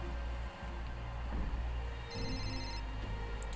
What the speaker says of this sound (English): And there's my phone again.